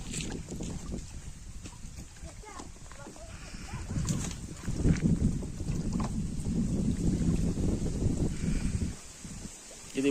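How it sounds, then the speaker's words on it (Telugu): A portable 4HP petrol motor sprayer runs while it is used to spray a mango orchard. It gives a continuous, rough engine drone with some wind buffeting, and faint voices sit underneath. "ఇది మోటార్ మిషన్. ఇది పోర్టబుల్ మోటార్ 4HP పోర్టబుల్."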